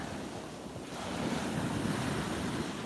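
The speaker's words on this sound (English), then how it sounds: "The waves are always bigger here." Ocean surf breaks and washes onto a beach at sunrise, a steady broad roar that swells slightly louder partway through, mixed with wind on the microphone and no talking.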